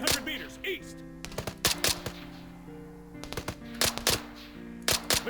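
Machine gun fire in the Arma 3 military game: repeated close bursts of sharp rattling shots in an uneven rhythm, heard over a tonal in-game radio and voice background.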